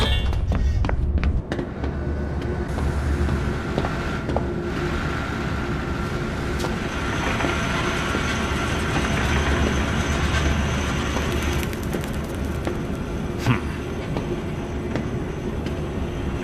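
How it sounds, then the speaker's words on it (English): A train runs in the video game Zoochosis, a continuous rumbling roll of rail cars with rhythmic clatter and occasional metallic squeals, steady and moderately loud. "A train? Trolleys?"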